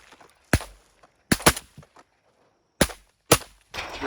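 Shotgun blasts ring out during a teal duck hunt outdoors, four or five sharp, loud cracks arriving singly and in a quick pair, with quiet gaps between them.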